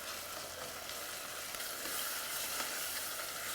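Tomato paste sizzling as it cooks down in a pan for minestrone, a steady close hiss and crackle with no voices.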